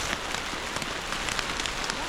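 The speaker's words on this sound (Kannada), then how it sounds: "ಈ ರೇಂಜಿಗೆ ಮಳೆ ಬರ್ತೈತೆ, ಕೆಳಗಡೆ ನೀರು, ಮೇಲಿಂದನೂ ನೀರು ಬರ್ತೈತೆ." Heavy rain pelts steadily on a surface, a dense continuous patter with scattered louder drops.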